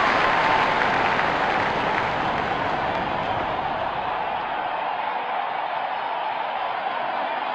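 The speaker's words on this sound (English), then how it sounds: "Crowd is going crazy." Stadium crowd at a Sri Lanka vs Afghanistan T20 World Cup cricket match roaring and applauding after a boundary four, a dense, loud, sustained wash of cheering that eases slightly toward the end.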